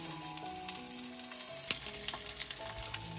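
Cabbage fries in heated olive oil in a pan, a soft continuous sizzle with scattered sharper crackles and spits, close and fairly quiet.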